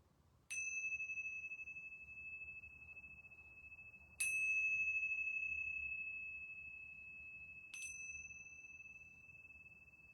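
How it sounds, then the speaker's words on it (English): A yoga bell is struck three times at even intervals, each bright ring sustaining and slowly fading into a quiet room. "I'm going to ring these yoga bells 3 times."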